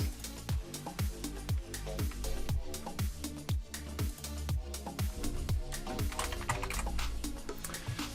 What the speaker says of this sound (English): The user opens up Word and start typing on her document.